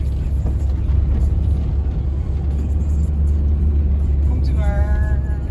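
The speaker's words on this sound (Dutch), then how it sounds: "Oké, er komt een auto aan." A car approaching and driving past on a road, a steady low rumble throughout with loud broadband noise, while people talk nearby.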